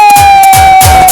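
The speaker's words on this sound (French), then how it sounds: "Applaudissez pour tonton Oumar Choco, s'il vous plaît." An audience cheers and applauds at a live show with a DJ, loud and close, the burst of voices and claps swelling over a steady droning tone that runs through the whole short moment.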